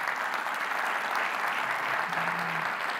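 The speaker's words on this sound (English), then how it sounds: "A big, big applause to all of you" Continuous applause from an audience at a handball federation awards ceremony, a dense wash of clapping at steady level, with a brief low tone in the background near the end.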